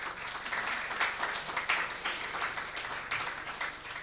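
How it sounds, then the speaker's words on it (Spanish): A church congregation at a Pentecost service claps together in a warm, steady round of applause that swells slightly and then eases off. "Denle un aplauso al Señor"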